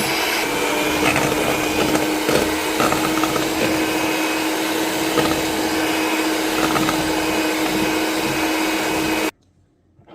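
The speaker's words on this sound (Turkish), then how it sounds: "Çırpmaya başlıyoruz." Electric mixer whisking fluffy pancake batter of egg, milk and flour, a loud steady motor whine with a constant hum running unbroken for about nine seconds, then cutting off abruptly into near silence.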